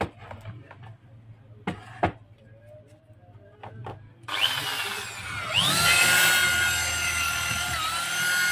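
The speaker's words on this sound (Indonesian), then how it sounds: "Kita tes dulu untuk bornya." An electric drill fitted with a 12 mm bit is switched on for a test. A few clicks and handling knocks come first, then the motor whirs up loudly and holds a steady high whine close by.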